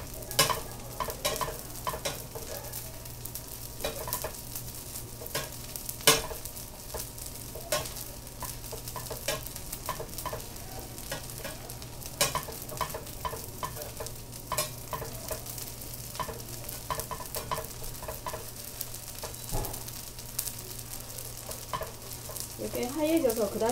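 Small dried anchovies stir-fry in oil with a persistent, crackling sizzle, broken by frequent rhythmic scrapes and taps of a spatula against the pan.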